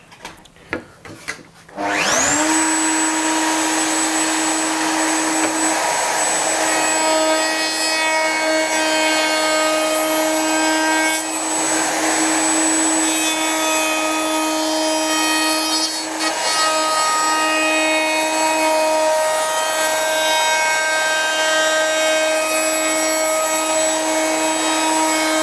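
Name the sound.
cutting wood with bearing-guided cutter on Triton Workcentre WCA201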